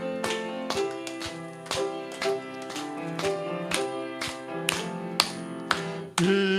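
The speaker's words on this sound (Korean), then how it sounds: "힘차게 박수 치면서 할까요?" Worship congregation clapping in steady rhythm during a Sunday morning church service song, sharp regular claps sounding over sustained sung and played music throughout.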